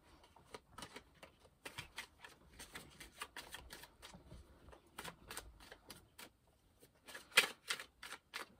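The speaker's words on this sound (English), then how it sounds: "while I'm shuffling" A deck of cards is shuffled close by, with quick riffling bursts and soft slaps repeating irregularly, faint but distinct against a quiet background.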